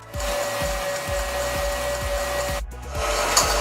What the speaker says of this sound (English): now this is gonna start whisking on high speed.